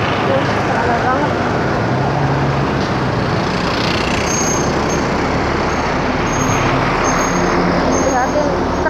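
Heavy road traffic on an Indonesian road, with a truck's broad engine rumble rolling past among other vehicles and a brief air-brake hiss, loud and continuous throughout, while people talk over it.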